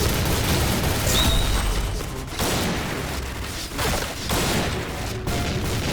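Dense video game gunfire from a Point Blank online shooter, with rapid overlapping shots and bursts that stay loud and continuous for the whole stretch.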